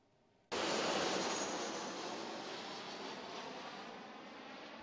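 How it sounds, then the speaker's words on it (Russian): A jet airliner near Heathrow Airport roars in abruptly after a quiet moment, its broad, loud engine rumble holding steady and slowly easing as it passes close overhead, with no voices. "Каждые 90 секунд гул самолета разрывает небо"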